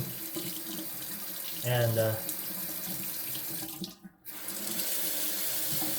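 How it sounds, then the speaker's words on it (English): Water runs steadily from a household tap in Texas while someone waits for it to turn hot, a continuous near hiss with a brief voice over it and a short dip partway through. "trying to get hot water out here."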